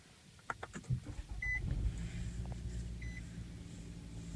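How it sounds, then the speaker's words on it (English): A 2014 Nissan Rogue SL engine starts with the push-button ignition: a couple of soft beeps and clicks, then the engine catches and settles into a steady low idle rumble from inside the cabin. "Turn her on, of course, the push button ignition."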